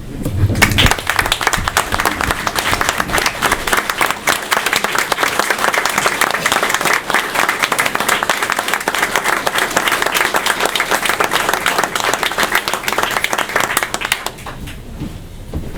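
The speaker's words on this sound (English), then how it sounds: "I'd like for y'all to give them a round of applause." A city council meeting audience gives long, dense applause, loud and steady for around fourteen seconds before fading to quiet room tone.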